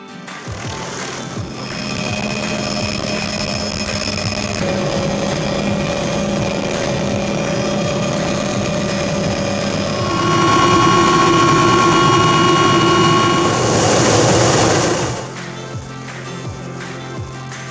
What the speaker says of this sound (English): Well, that was a really cool flight in with Chris